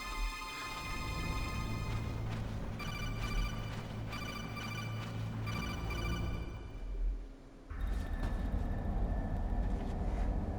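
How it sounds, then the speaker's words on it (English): Codec call ringing in the video game Metal Gear Solid, a repeating electronic beeping ring in bursts over a low game background hum, fairly quiet, with a brief dropout before the ringing resumes. "Every time the frickin' codex rings, I think my phone's going off."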